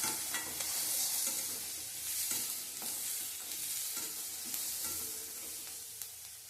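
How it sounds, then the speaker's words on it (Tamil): Onion, green chilli and ginger sautéing in a pan, a constant soft sizzle broken by repeated scraping stirs, fairly quiet and with no voices. "வெங்காயம் பச்சை மிளகாய் இஞ்சி எல்லாமே வதங்கணும். வதங்கிட்டு இருக்கு."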